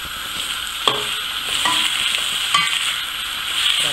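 Tomato, pepper, onion and parsley frying and being stirred in a pan, with a steady close sizzle broken by a few sharper scraping stirs and clinks.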